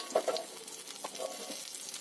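Gram-flour-coated fish frying on a tawa, a faint, close sizzle with soft crackles and a few light pops, no voices.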